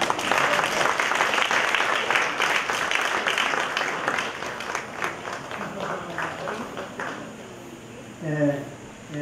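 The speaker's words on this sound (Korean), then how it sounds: "다시 박수 부탁드립니다" Audience applause at an outdoor concert in a forest, a dense wash of clapping that stays loud at first, then thins and fades out over several seconds.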